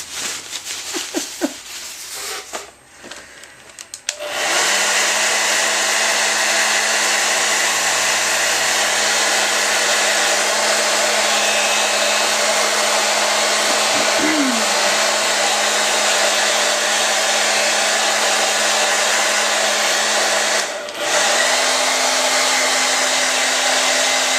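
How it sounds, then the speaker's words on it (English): A hair dryer roars steadily at close range, a constant loud whooshing blow that cuts out briefly and restarts, with a faint rattle before it starts. "Then I'll get them the hairdryer."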